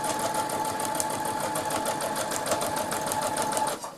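A sewing machine stitches fabric for washable baby wipes in a fast, even run of close mechanical clatter that slows and stops just before the end.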